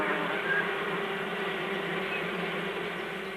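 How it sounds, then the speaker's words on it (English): Honeybees fanning their wings inside the hive to cool it on hot days, a steady, continuous buzzing drone that holds close and even in level throughout, with no voices over it. "Not all insects can flap their wings if their feet are touching something, but bees have developed the knack for this special purpose"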